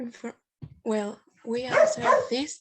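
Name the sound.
dog barking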